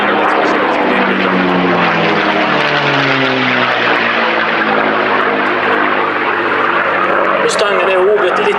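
A P-51 Mustang propeller fighter flies past at an airshow at Stord, its engine drone loud and sustained and shifting in pitch as it passes, with a commentator speaking over it.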